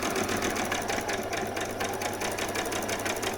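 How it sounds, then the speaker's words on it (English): A sewing machine runs steadily, stitching a straight seam on the arm of vet scrubs with a fast, even mechanical chatter, close and alone without talk. "I'm just going to put the stitches on the last of the arms"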